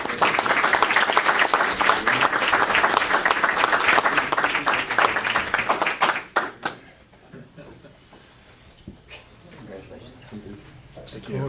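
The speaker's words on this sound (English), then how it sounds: "let's give him a round of applause" A round of applause at a school board meeting, dense clapping from the room for about six seconds, then it tapers into a few scattered claps and quiet murmuring and talk.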